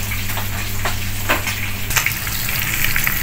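Food fries in a pan with a steady, close sizzle and crackle, and a few louder pops come through. Faint background noise sits beneath it, with no talking.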